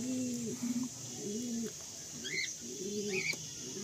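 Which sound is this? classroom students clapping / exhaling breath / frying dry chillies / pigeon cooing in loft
pigeon cooing in loft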